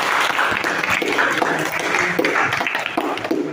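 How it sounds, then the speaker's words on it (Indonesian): A classroom of pupils claps together during a lesson, a dense, lively burst of applause that stays fairly loud and close for several seconds with faint voices mixed in. "Oke, tepuk tangan."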